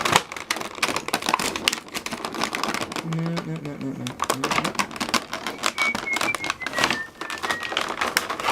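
Crinkly plastic and wire twist ties being untwisted from toy packaging for a light-up Bioshock Big Daddy figure, a busy stream of close, clicky rustles and snaps with a brief gap in the middle.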